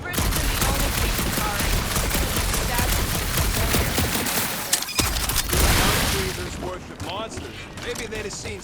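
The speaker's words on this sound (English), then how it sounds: "You do know that aimless shooting isn't gonna scare the monsters away, right?" Rapid bursts of gunfire in the Marvel's Guardians of the Galaxy video game, a dense, loud volley of shots for several seconds that breaks off and is followed by scattered sharper reports and effects.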